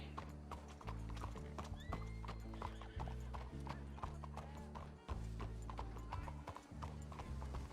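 Horse hooves clop in a steady, repeating rhythm with whinnies mixed in, all set over a looping Red Dead Redemption 2 soundtrack.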